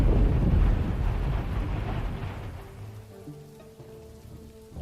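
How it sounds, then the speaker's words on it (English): Steady rain falls in the video game The Life and Suffering of Sir Brante, a dense hiss of drops that eases off as soft music tones come in. "It's a rainy day today."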